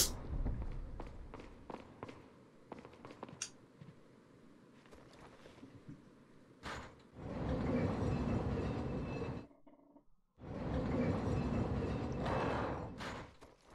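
A personal tram in Resident Evil 4 rumbles along with a loud, steady rolling roar in two long bursts separated by a brief lull, preceded by quieter clicking and footstep-like taps.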